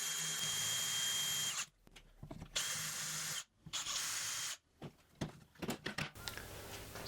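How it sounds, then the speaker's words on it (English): A power drill whirs in several bursts while drilling base holes for an angle grinder jig, spinning up and stopping with short pauses between, close and loud. "I'm drilling to mark the position of the base holes."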